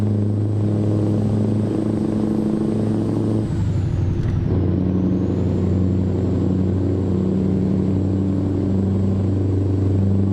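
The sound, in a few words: truck engine noise in a modded driving video game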